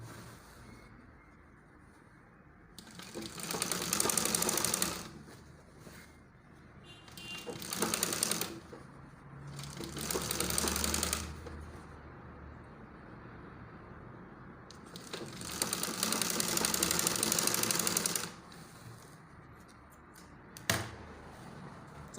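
A sewing machine stitches a turtleneck collar onto a dress in several loud runs of rapid mechanical whirring, separated by quieter pauses, with a brief knock near the end.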